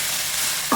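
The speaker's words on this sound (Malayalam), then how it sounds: "ഇളക്കി കൊടുക്കാം." Carrots being stirred in a frying pan, with a steady soft sizzle of oil throughout and a brief louder scrape of the spoon near the end.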